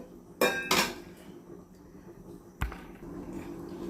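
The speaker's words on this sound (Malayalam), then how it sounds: "മൂടി ഇതിലേക്ക് വെച്ച് നമുക്ക് വേറെ മുടി കൊണ്ട് മൂടാം" A metal lid is set onto a cooking pot of boiling meat, giving two quick clanking knocks close by, followed by a single sharper clatter a couple of seconds later over a quiet kitchen background.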